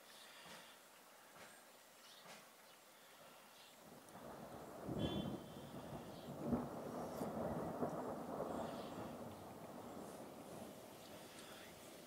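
A thunderstorm on 27 June 2014 under a massive cloud: after a few seconds of quiet, a deep, rolling thunder rumble builds and lingers at moderate distance, broad and continuous through the rest of the clip.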